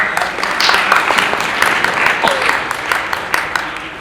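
Audience applause for a professor being welcomed as a judge at a Pakistan Day 2021 quiz contest at Bahadur Yar Jung Academy, Karachi: dense steady clapping from a hall crowd, fairly loud and continuous throughout.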